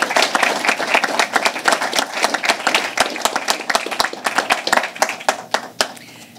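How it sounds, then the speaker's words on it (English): An audience claps for the state Secretary of Health and Human Services at a program awards announcement. Sharp, close hand claps rattle continuously in a busy, uneven rhythm, then thin out toward the end. "Give a round of applause for our Secretary of Health and Services."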